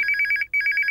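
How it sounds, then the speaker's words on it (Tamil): A telephone rings with a rapid electronic trill in two bursts split by a brief gap, loud and close, heard alone without talk. "போன் அடிக்குது, யாருன்னு பாரு."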